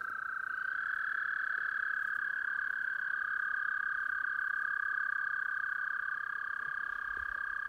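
Frogs croak near a cabin stream in a dense, steady chorus, a continuous loud trill that holds unbroken throughout with no talking.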